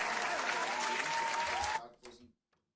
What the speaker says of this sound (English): We'll get a clap from the audience.